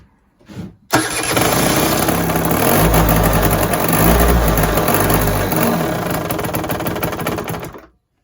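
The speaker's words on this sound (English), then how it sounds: "now I've turned the ignition on and we'll see if it starts" A Peugeot Speedfight 4 scooter engine cranks briefly, then catches and runs with a loud, buzzing idle for about seven seconds before cutting out abruptly.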